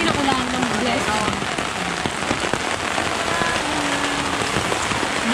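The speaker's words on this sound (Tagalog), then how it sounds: "Umuulan guys! Lakas na ulan." Heavy rain pouring steadily in a rural Philippine village in Occidental Mindoro, a dense loud hiss of drops on surfaces throughout, with faint voices underneath.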